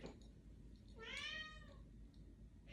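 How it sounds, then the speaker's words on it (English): House cat giving a single clear meow, close and fairly loud against a quiet kitchen background, with no one talking. "That is my cat, Binks."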